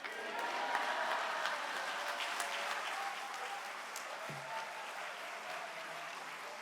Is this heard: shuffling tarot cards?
no